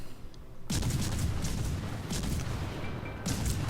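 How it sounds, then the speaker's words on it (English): Rapid gunfire from a small gunboat's long-ranged HE shells in a naval combat video game, a dense continuous barrage of booming shots starting abruptly and continuing loud throughout without talk. "to receive these very rapidly firing long-ranged HE shells that have a really great chance to set fires"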